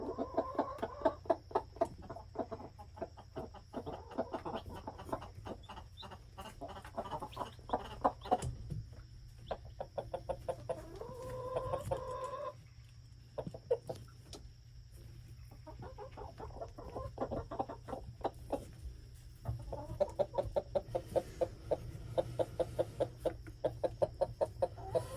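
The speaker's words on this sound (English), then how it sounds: "Now the birds, the little chickies, I do believe are in there getting some feed." Backyard hens cluck softly and steadily while eating feed, with frequent light pecking taps and a few quieter pauses, heard close up throughout and without any talking.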